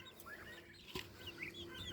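A chicken clucks in a summer farmyard among turkeys, geese and ducks, short close calls over a faint rustling backdrop with other birds chirping.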